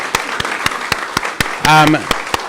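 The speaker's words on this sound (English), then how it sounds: "Let's give Ronnie, Beth, and Gala one more round of applause for a wonderful, wonderful evening." An audience claps after a book reading evening featuring three poets and authors. The claps are fairly sparse and evenly spaced, with a brief voice calling out partway through.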